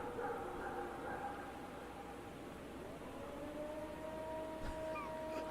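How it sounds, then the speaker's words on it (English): An alleged Bigfoot vocalization recorded in 1994 in Columbiana County, Ohio: a faint, drawn-out, siren-like wail with a thin upward-sliding tone near the end, buried in steady hiss and distant background rumble. "they have some sound recordings of different Bigfoots"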